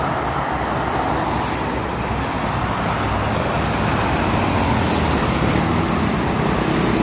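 Heavy freight truck traffic streams both ways along the Jakarta-Cikampek toll road in the morning, a dense, steady roar of engines and tires with no pauses and no voices.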